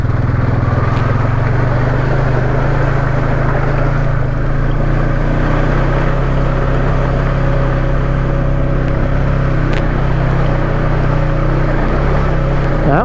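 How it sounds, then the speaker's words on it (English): Four-wheeler ATV engine droning steadily while riding, a loud continuous low hum with a slowly shifting pitch, no talk. "Just to be careful, I'm going to use four-wheeler through here."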